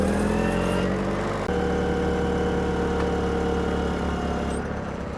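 A forklift's engine runs steadily while it lifts a Jeep Rubicon, a continuous droning hum at moderate loudness with a slight shift in pitch partway through and no talk.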